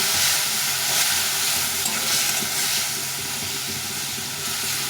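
Cumin powder loosened with a splash of water sizzles in a hot pan while being stirred, a loud hissing fry with repeated scraping and stirring noises throughout and no speech.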